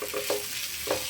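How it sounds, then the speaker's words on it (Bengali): Pointed gourd peels frying in oil give a steady sizzle, with brief scraping as they are stirred in the pan, close and without talk. "তেলের মধ্যে একটু এই পটলের খোসাগুলো একটু নাড়াচাড়া করে নিয়েছি।"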